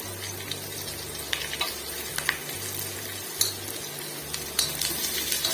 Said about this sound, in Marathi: आता मी थोडंसं तव्यावर लसूण करून आपली तमालपत्र अशी टाकणार आहे मध्ये